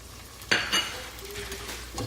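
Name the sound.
carrots frying in cauliflower rice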